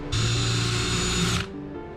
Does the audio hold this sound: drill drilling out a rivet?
yes